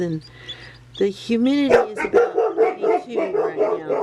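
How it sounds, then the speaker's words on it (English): A pet dog barks in a house, a few sharp barks and yips close by, under someone talking about an incubator for hatching Serama chickens. "My dogs will bark at anything and everything"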